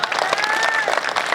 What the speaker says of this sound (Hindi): तालियां बहुत कम है